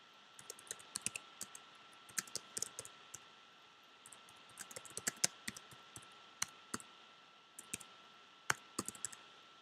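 Quick bursts of clicking keystrokes on a computer keyboard as a photo's description and title are typed, close and fairly quiet, arriving in irregular clusters with short pauses between.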